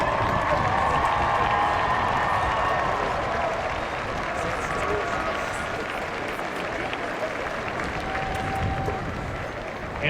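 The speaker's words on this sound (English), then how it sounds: "I want the graduates to stand and applaud all the loved ones who are in this stadium today" Graduates at the 2014 Virginia Tech commencement in a stadium applaud in a continuous, broad roar of clapping that carries across the arena, with crowd murmur and faint cheering underneath.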